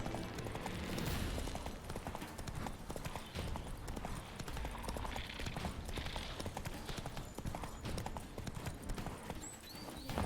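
Roach, a horse in The Witcher 3, trots along in a brisk, steady clip-clop of hooves, close and continuous, with a busy game soundscape behind it and no talk.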